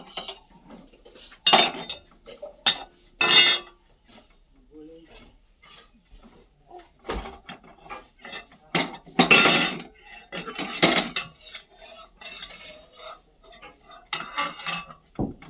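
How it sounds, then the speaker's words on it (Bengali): A metal spatula (khunti) scrapes and clinks against a kadai pan in irregular strokes, close and fairly loud, with quiet gaps between stirring bursts. "এবার নাও খুন্তি দিয়ে নাড়ো"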